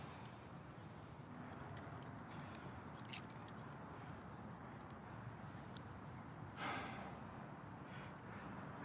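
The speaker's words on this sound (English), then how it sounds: "Keys." Keys jangle in a few brief metallic clusters over a quiet, low background rumble, fairly faint and intermittent, with a louder rustle near the end.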